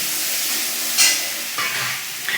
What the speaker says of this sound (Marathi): बघा तेल उडतंय बघा दमान दमान.